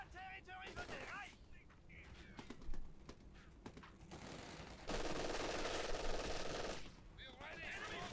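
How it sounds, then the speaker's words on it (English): MG42 machine gun in Company of Heroes 2 firing a sustained rapid burst amid battle noise, mid-distance and steady for about two seconds, with other gunfire and a commentator talking over it. "Ooh, insta-suppression there from the MG42."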